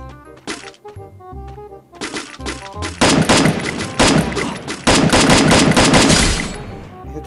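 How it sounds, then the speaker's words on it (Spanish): Rapid gunfire from the Free Fire battle royale game, loud bursts of repeated shots that grow denser and nearly continuous toward the end, heard alone without talk. "Uy, me está disparando."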